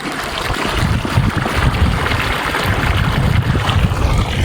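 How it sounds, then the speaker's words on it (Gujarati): Irrigation water rushes steadily into a farm channel, a loud continuous broadband wash close to the microphone, with no voices. "અત્યારે ઘનશ્યામભાઈ પાણી વાળે છે મિત્રો આવી રીતના પાણી આવે છે"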